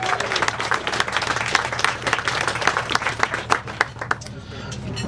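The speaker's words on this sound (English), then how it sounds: "Give them a big round of applause." An audience at a Worth Valley Young Farmers Club 80th anniversary celebration claps in a sustained, dense round of applause that carries on throughout, with some voices mixed in.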